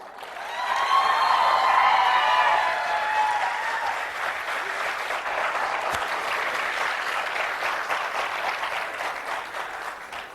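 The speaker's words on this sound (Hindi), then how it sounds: "जो 10-20 कुर्सियां खाली हैं उनकी ताली भी आप ही बजा दो" Large seminar-hall audience bursts into loud, dense applause that peaks early, then settles into steady, slightly softer clapping that carries on to the end.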